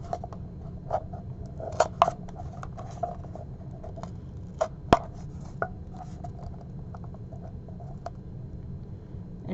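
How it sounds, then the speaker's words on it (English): Faint, irregular clicks and snips of scissors puncturing a plastic cup, a few sharper pokes standing out against quiet background hiss. "I'm just going to take my scissors and poke a couple holes"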